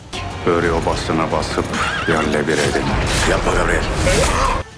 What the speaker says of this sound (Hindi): ग्रिगोर हैं वो अपने घोड़े पर बैठकर हमला करने के लिए जा रहे हैं